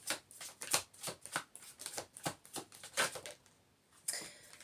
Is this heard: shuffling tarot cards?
yes